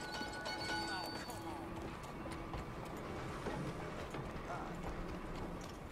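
Horse hooves clip-clop in a steady walking rhythm in the video game Red Dead Redemption 2, mid-distance and moderately loud, with game music and other ambient effects layered underneath.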